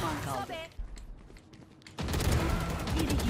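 Rapid bursts of video game gunfire crackle loudly, dropping briefly to quieter thuds before erupting into sustained dense automatic fire; voices are heard.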